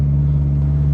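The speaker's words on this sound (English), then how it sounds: "Wow, I need a quieter muffler, I guess." A car engine drones through a loud muffler while climbing a steep hill, a strong steady low hum with a fixed exhaust tone, close and continuous for the whole moment.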